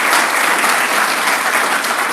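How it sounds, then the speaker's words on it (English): Warm applause from a youth convention audience for Swami Sarvapriyananda, a brief, dense, even roar of many hands clapping close and loud. "let us give a warm applause to Swami Sarvapriyananda"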